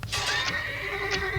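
Horses whinny in the real-time strategy game Kohan, a loud, close, high-pitched neigh with a second shorter call near the end, over a steady game soundscape with no talk.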